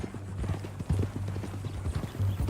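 Horse hooves clip-clop steadily on the ground in Red Dead Redemption 2, a close, even walking rhythm with an occasional louder step and no talk over it.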